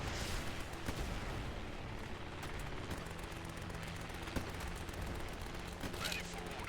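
Gunfire from the alt-history tactical mecha game Grit and Valor rattles in dense, continuous bursts, fairly quiet, with heavier thumps mixed into the volley and no voices over it.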